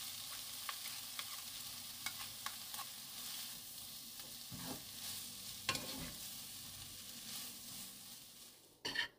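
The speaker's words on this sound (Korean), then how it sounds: "부드럽게 잘 볶아줬습니다." Salt-rubbed peeled bellflower root stir-fries in a pan with a soft, continuous sizzle, broken by light scraping stirs and a sharper clatter near the end.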